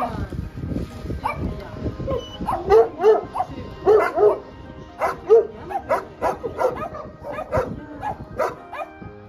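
Dogs at an animal shelter bark repeatedly at close range, sharp bursts coming in irregular clusters, with someone speaking French in between.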